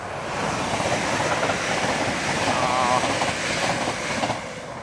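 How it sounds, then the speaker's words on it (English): A train rolls past on a railway at night, a continuous loud rumble with faint clickety-clack and a brief wheel squeal partway through, steady from start to end. "Oh, could have seen that train."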